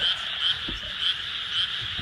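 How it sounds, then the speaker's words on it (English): Frogs croaking at night along rural country roads in Japan, a dense chorus of repeated rhythmic calls pulsing steadily and close by, with no voices. "at night the frogs were like absolutely insane"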